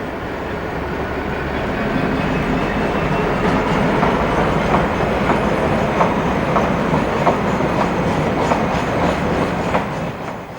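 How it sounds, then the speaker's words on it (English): Class 66 locomotive 66104 hauling a Llanwern to Port Talbot iron ore freight train in the late evening, a steady rumbling roar with rhythmic wheel clatter passing close by for about ten seconds, with no talk. "66104 heads another Llanwern to Port Talbot iron ore train."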